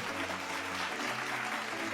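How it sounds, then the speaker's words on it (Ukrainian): A short burst of applause and clapping from a group, steady and fairly loud, with a voice faintly underneath. "Оплески пішли."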